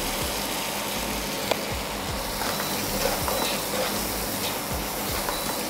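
Two medium chopped onions fry in hot oil with popped mustard seeds, giving a steady, dense sizzle with faint scattered crackles throughout and no talking.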